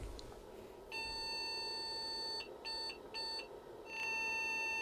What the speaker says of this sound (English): the IBM Monochrome Display Adapter, or the MDA, which was always beeping on every startup